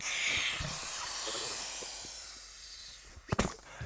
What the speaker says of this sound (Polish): jak materac ma również wentyl, dzięki któremu możemy ją w ekspresowym tempie nadmuchać